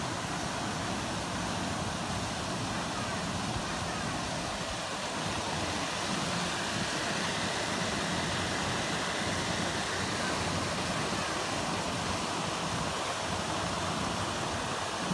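A waterfall at Kaladab in Azad Kashmir, producing a constant broadband rush of falling water that stays even and dense throughout, with no distinct events.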